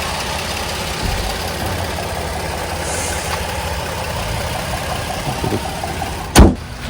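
The engine of a 2023 Kia Telluride SUV idles quietly and steadily in the background, a soft low hum, ending with a brief sharp knock.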